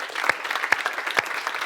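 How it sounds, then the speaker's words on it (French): A live audience applauds the technical crew at a WWDC 2017 live show, brisk continuous clapping with a few sharper individual claps standing out close by. "on les applaudit très fort"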